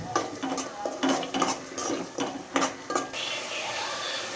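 Turmeric is stirred into oil in a cooking pan, making a series of metallic scraping and clinking strokes of a spoon against the pan over about three seconds, with a faint sizzle continuing after the stirring stops.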